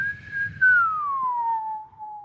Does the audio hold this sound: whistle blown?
yes